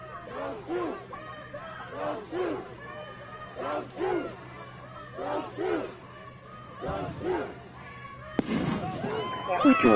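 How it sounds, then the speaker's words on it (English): Fireworks set off during a live street protest burst and pop repeatedly amid a shouting crowd, with radio chatter and voices layered over the rhythmic loud bangs. "Letting off fireworks."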